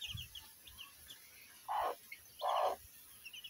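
Small chicks peep faintly with several high, short chirps scattered through a quiet scene. Two louder, lower bursts stand out in the middle.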